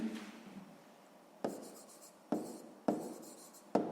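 A pen scratches out a math answer on paper in close, brisk strokes, with a longer opening stroke followed by several short sharp bursts of writing.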